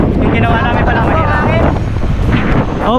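Strong headwind buffets a cycling group on the Mindoro Loop road in Oriental Mindoro, a steady loud roar across the microphone, with people talking over it throughout.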